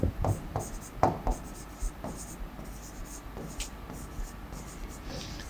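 Chalk or marker writing on a board during an English grammar lesson, short scratchy strokes and taps in irregular bursts, heard close with a teacher's voice talking over them.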